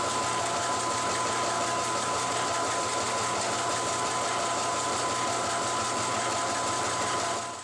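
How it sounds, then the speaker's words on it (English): A metal disc brake bracket plate being machined down, giving a loud, continuous mechanical whir with an even, buzzing vibration that holds steady throughout. "Alright, I machined down the plate. Took about 52 thousandths off."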